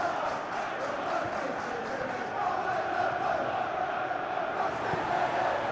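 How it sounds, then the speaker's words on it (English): Stadium crowd in the PES 2021 football game, Chelsea against Arsenal, keeps up a steady, loud roar of cheering throughout, a dense wash of voices with no single voice standing out. "Well, the crowd clearly like what they just saw."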